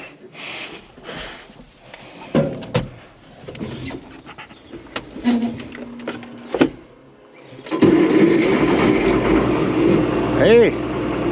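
An Allis Chalmers 7580 tractor's diesel engine, just fitted with a new fuel pump, cranks in scattered bursts with clanks and a person talking. It then fires and settles into a loud, steady run for the last few seconds.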